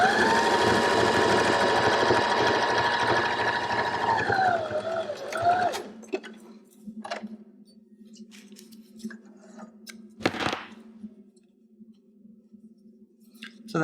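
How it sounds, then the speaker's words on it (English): A sewing machine runs steadily and loudly for about six seconds as it stitches across the top of a fabric Christmas stocking, then stops, leaving a low hum and a few soft clicks and handling sounds. "So you sew completely across the top of one pair with a 6mm seam allowance."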